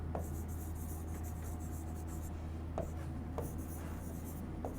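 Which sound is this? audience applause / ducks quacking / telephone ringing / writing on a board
writing on a board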